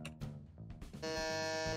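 A game show buzzer in a Hearthstone card-guessing quiz sounds as a sustained electronic tone in the second half, loud and steady after brief earlier sounds.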